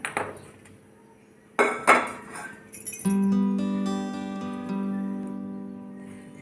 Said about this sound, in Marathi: गॅसवर कढई ठेवून घेऊया